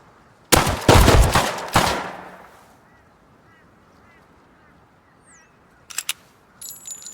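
Three loud gunshots in quick succession ring out close at the start in the video game Rust, fired at an NPC, followed by quiet ambience and a few faint bird-like honks and clicks near the end.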